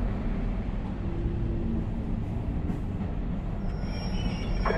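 A train rumbles steadily in the video game Beyond: Two Souls, a loud continuous low roar of wheels and carriage with faint metallic squeals and a thin high whine near the end, no voices.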